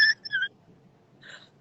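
A doctor imitates an asthma wheeze with a high, thin whistling squeak, three brief tonal bursts spread over about a second and a half, quiet and close against near silence.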